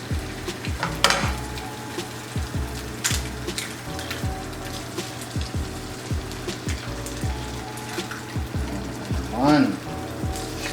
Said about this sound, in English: So I'm gonna cook those eggs right now.